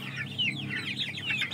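Young Shamo and Indio chicks peep and cluck in quick, high, overlapping chirps, fairly close and moderately loud, with no voices.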